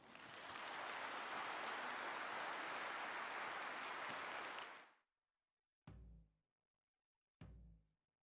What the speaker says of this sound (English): please join me in applauding the man behind this transformation